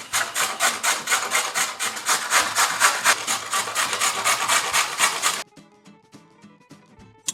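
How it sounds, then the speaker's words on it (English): Carrots being grated by hand, a fast steady rasping stroke repeated over and over, loud and close, then stopping abruptly near the end as faint background sounds remain. "Now we have to peel and grate the entire bag of carrots."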